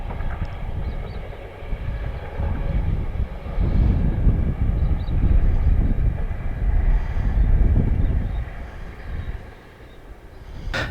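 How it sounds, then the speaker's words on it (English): A small train passes along a track on a hillside above a rapids walking trail, a steady rumbling roar that swells and fades over several seconds, heard from well below the line. "Or another train is coming. So there it is. It's just a small train."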